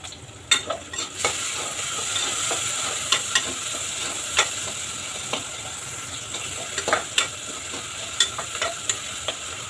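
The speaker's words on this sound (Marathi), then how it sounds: "आता आपण टोमॅटो टाकून घेऊया. टोमॅटो आणि हिंग." Tomatoes with asafoetida and salt fry in a pan for misal pav, a steady sizzle broken by frequent scraping stirs and spoon knocks, close and fairly loud with no talking.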